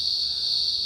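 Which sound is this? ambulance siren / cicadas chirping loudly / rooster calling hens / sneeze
cicadas chirping loudly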